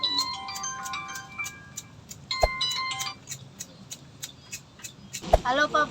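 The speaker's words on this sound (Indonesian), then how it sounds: "Wah, kayaknya ada telepon nih." A telephone rings with repeated electronic tones through the first few seconds, followed by a sharp knock and then a brief voice near the end.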